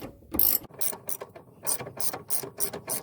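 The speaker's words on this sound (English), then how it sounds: "Should be able to get them pretty easy with your hand ratchet." A hand ratchet loosens body mount bolts on a 2001 Jeep TJ, giving close, crisp clicking bursts in quick uneven runs of pawl ticks with short pauses between strokes.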